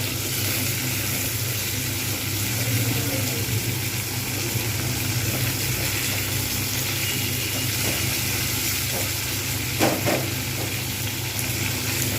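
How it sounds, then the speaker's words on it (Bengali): Cauliflower frying in hot oil, a steady continuous sizzle with faint stirring clinks, moderately close and uninterrupted, no voices. "এই তেলে দিয়ে আমি ফুলকপিটা ভাজব"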